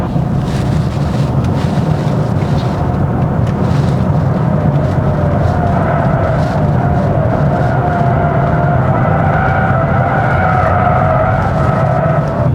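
A 2025 Hyundai Grandeur Hybrid runs above 4,500 rpm on the move. Its loud, constant engine drone and road roar carry rising tonal hum and wind rush, heard from inside the car with no talking.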